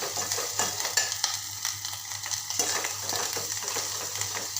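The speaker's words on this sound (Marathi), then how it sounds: "एक बारीक चिरलेला टोमॅटो घालते त्याला पण छान असं मस्त शिजू द्यायचं" Spices and finely chopped tomato sauté in a pan for a Maharashtrian pathodi rassa curry. A continuous crackling sizzle runs under scraping, clinking stirring strokes, with a low hum beneath and no speech.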